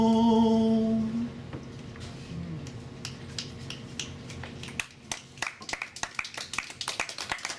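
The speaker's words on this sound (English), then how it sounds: "Clapping's not mandatory, but that's okay." A small audience at a poetry reading claps after a poem, starting with a few scattered claps and building into a sparse round of individual handclaps that stay fairly close and moderately loud.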